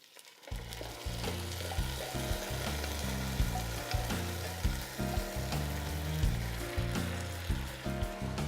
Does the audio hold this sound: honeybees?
no